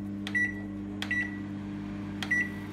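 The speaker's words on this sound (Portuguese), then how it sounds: "Aí tá aqui, ó, e leva ao micro-ondas." A microwave oven hums steadily while heating a low-carb queijadinha batter, with three short electronic beeps spaced across the run and no talking.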